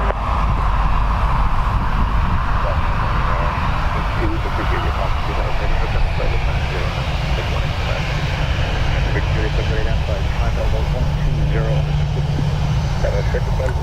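An airliner roars down runway 10 right at Dublin Airport on takeoff, a loud, steady, close engine rumble that holds throughout.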